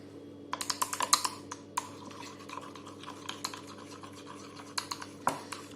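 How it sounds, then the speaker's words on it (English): A face bomb mixture is stirred vigorously in a bowl, with a quick run of close scraping and tapping clicks, busiest early and again near the end, with no talk. "Now we have to vigorously mix it together."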